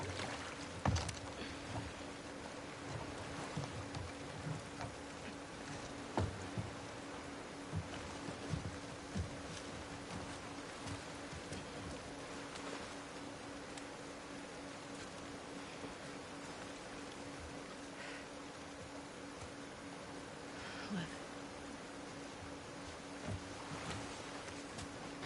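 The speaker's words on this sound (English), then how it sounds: "Get out of the rain." Steady, faint rain hiss in The Last of Us Part II video game, a continuous wash with scattered soft patters and a low hum beneath, with no voices.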